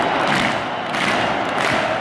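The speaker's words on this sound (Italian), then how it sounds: "grandissimo il pubblico, devo dire la verità, incita dall'inizio alla fine, sentite." A football stadium crowd at an Atletico Madrid match roaring and chanting in a dense, continuous wall of cheering during a heated finish.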